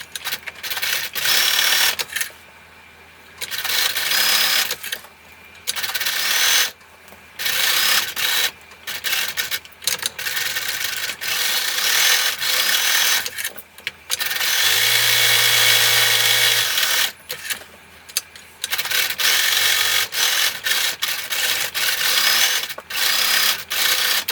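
A sewing machine stitches the seams of a curved zipper pouch in repeated bursts of rapid mechanical whirring, separated by short pauses, close up with no talk.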